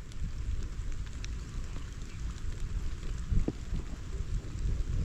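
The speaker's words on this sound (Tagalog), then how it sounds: "Lumalakas ulan." Steady rain, getting heavier, hisses and patters close by, a dense continuous wash of drops with no voices.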